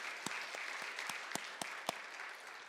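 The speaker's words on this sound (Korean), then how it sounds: "박수하겠습니다." A church congregation applauding: a steady wash of many hands clapping with a few louder individual claps standing out, moderately distant and without talk.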